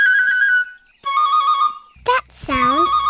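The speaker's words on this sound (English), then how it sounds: "That sounds like a bird." A cartoon bird call rings out in a few bright, tonal whistled phrases: two steady chirping notes, then a sweeping warble, with a soft rumble beneath the last part.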